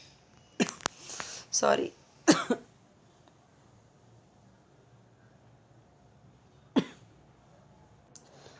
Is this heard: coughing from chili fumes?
yes